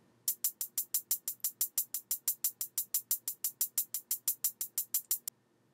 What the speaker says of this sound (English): the first sound in it is my hi-hat, super basic, sounds like this